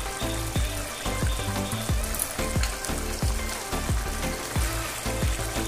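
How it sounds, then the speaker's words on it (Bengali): Bengali-style katla fish head curry sizzles in a pan while garam masala powder is stirred in, a dense steady frying hiss punctuated by regular scraping thuds of the spoon against the pan. "মশলাটা ভালো করে মাছের সাথে মিশিয়ে দিচ্ছি।"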